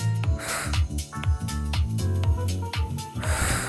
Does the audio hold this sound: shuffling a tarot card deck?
no